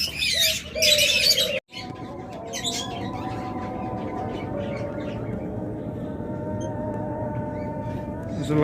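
A pheasant just let out of its cage gives a burst of bright chirping calls near the start, followed by a steady low droning background.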